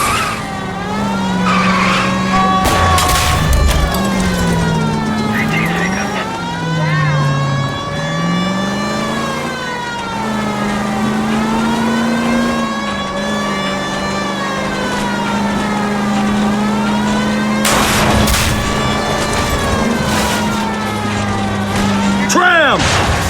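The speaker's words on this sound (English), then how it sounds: "Clean this asshole off the road. I'll try to shoot out his tires." Video game car chase set in 1940s-style Los Angeles, with engines wailing at pitch-shifting revs, a siren rising and falling, and skidding tires throughout, plus brief louder bursts that may be gunshots aimed at a fleeing car's tires, with voices occasionally over it.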